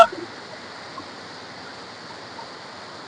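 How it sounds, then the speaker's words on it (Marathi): Heavy rain pours over a Kokan village near mango trees, a steady, dense hiss that fills the whole clip without pause. "पाऊस खूपच पडतोय बेकार पाऊस पडतो"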